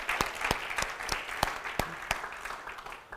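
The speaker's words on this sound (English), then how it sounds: "tell them you appreciate them by a round of applause" A small audience gives a round of applause, sharp, distinct claps in a steady, fairly quick rhythm, clear and close, fading slightly toward the end.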